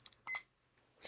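A kitchen timer being set emits a few faint short beeps, soft and close, with a brief brighter chirp at the end.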